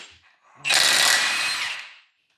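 A power tool, likely an impact wrench, spins off the large axle nut on a broken Jeep LJ, a loud, close burst of harsh whirring that lasts over a second and then winds down.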